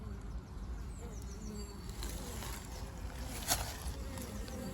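Bees at a hive entrance in spring drone in a faint, continuous buzz, with individual insects whining past now and then against quiet outdoor background.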